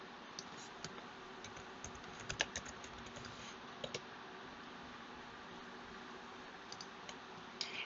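Light typing on a computer keyboard, scattered soft key clicks in small irregular clusters, faint and close over a quiet background hiss, no talking.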